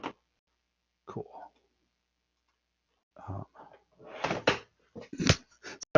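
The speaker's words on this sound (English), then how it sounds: "Sorry, I'm knocking stuff off my desk here." Objects knocked off a cluttered desk make a few sharp clattering knocks and thuds in quick succession, close by, between stretches of quiet and soft indistinct murmuring.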